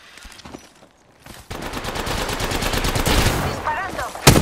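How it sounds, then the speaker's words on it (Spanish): Automatic weapon fire in the battle royale game Apex Legends rattles in dense, continuous bursts after a quieter opening, loud and close, with a sharp crack near the end. "¡Me disparan!"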